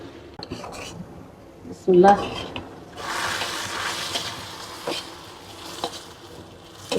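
Garlic and onion frying in mustard oil for a bhindi masoor dal, with a clattering knock of pan and utensil followed by a steady close sizzle and occasional stirring scrapes.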